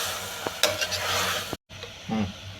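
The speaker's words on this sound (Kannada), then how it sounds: "ಇವಾಗ ಈ ಥರ ಒಗ್ಗರಣೆ ಜೊತೆ ಮಿಕ್ಸ್ ಮಾಡಬೇಕು" A spoon stirs ivy gourd into a hot tempering in a pan, making scraping and sizzling strokes close by, broken by a brief silent gap.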